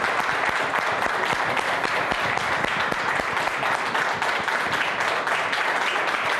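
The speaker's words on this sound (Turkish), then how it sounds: "Çok güçlü alkışlarınızı." Studio audience on a Turkish TV talk show breaks into sustained applause to welcome a guest, steady dense clapping filling the room without pause.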